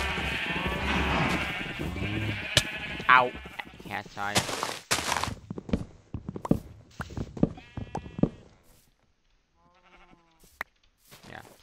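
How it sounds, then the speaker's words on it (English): Sheep bleat in a pen in the Minecraft survival game, the cries standing out at the start and mixed with talking, short game clicks and thuds. "So these are our sheep slash cow pen"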